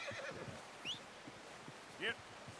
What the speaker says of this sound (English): Come on, horse, where'd you go?